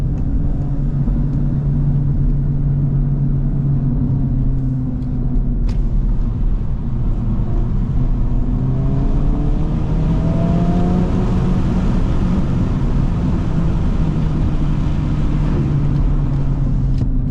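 A 2025 Acura Integra Type S drives with its factory exhaust in Sport Plus mode, giving a loud, continuous engine drone that rises and falls in pitch as it accelerates and eases off, with a sharp crack or two early on.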